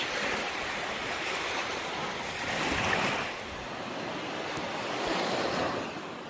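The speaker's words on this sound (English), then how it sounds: "All the way down the beach." Surf washing onto a beach beside a swampy nature trail, a steady broad rush of waves with gentle swells in loudness and some wind noise, continuous with no voices.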